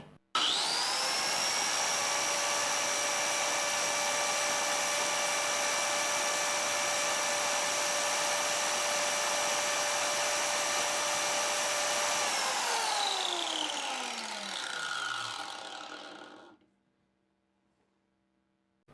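An SGS Plus 1500W miter saw motor runs at a steady high-pitched whine for about twelve seconds, then spins down with a falling pitch and fades to silence.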